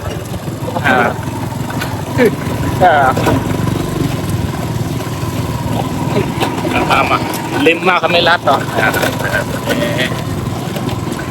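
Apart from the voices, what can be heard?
motor engine of tora-tora fishing boat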